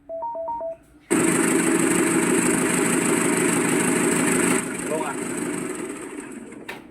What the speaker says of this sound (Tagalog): idadiagnose natin itong palyado ng engine, sobrang nanginginig